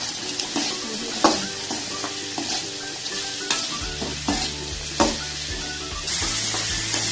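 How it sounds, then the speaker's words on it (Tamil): Beetroot being stirred into sautéed onions in a pan, loud close spatula scrapes and knocks over a strong steady sizzle, with a low hum underneath. "எல்லாத்தையும் ஒரு பரட்டிக்கோங்க"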